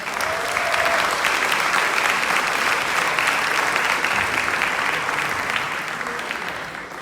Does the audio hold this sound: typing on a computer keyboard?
no